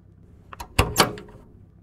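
A door in a video game opens with a few quick clunks and a sharp latch-like knock, close and brief, with no talk.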